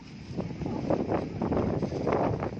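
Strong coastal wind gusting over Bidadari Island in the Thousand Islands, a steady broadband rush with surging gusts and buffeting against the microphone throughout.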